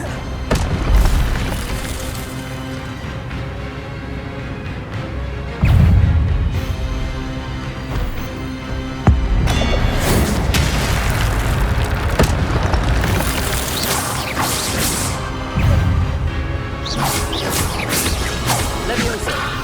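In the Hogwarts Legacy video game on PS5, Incendio fire spells set off repeated heavy booming explosions in several bursts, each with a rushing whoosh and a rumbling tail.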